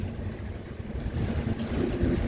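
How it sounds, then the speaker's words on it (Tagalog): Seaside wind and surf behind a house by the sea in a Philippine barangay, a steady low rumble with gusty microphone wind buffeting that grows slightly louder toward the end, no voices. "Tabing dagat to eh."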